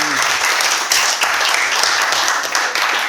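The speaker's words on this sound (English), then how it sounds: "I want everyone to give Sarah a round of applause." Applause erupts from a gathering at a wedding speech, dense and lively clapping from many hands that rolls on steadily and close.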